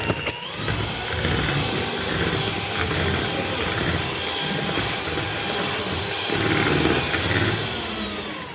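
An electric beater whips cream for a cake, its motor whining loudly and steadily up close, with a slight rise in intensity toward the end and no voices over it.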